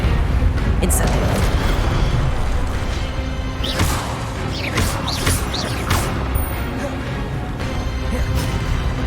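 Incendio fire spell blasts in Hogwarts Legacy, a dense roaring burst of fiery booms and crackling impacts that stays loud throughout, with whooshing magic effects and a voice speaking over the combat.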